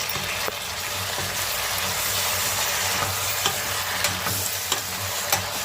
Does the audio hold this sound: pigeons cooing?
no